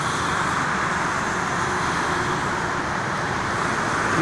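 Steady traffic roar on the Jakarta–Cikampek toll road in light drizzle, a dense continuous wash of passing cars and heavy vehicles, loud and unbroken with no talk.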